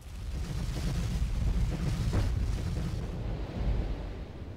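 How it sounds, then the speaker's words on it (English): An artillery barrage explodes in World in Conflict: Soviet Assault, a continuous deep rumbling roar of overlapping blasts that stays loud for several seconds before easing slightly. "Fire all the artillery. All the artillery."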